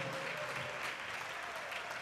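A crowd at a community talent show claps in steady, dense applause that holds at an even level throughout.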